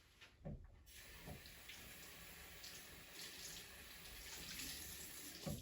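Water running steadily from a tap as a washcloth is wetted at a sink during a bedpan and handwashing care routine, a continuous close splashing flow with no voices.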